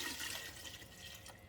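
1.5 litres of water pours into a stock pot holding russet potatoes, a steady broadband splashing and gushing that runs the whole short stretch at moderate level, with no talking.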